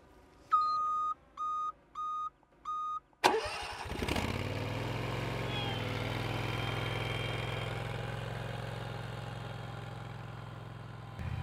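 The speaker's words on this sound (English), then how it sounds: "with the help of the remote controller, I can start the engine and drive the machine away from me with the help of the RC" Four short electronic beeps from a remote-controlled Spider Mower slope mower, then its two-cylinder Kawasaki engine cranks and catches with a sharp burst before settling into a steady, close, low idle.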